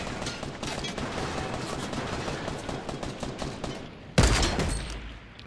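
Rapid bursts of gunfire in the Fortnite video game, a dense rattling volley of close shots for several seconds, then a louder single impact near the end that fades out.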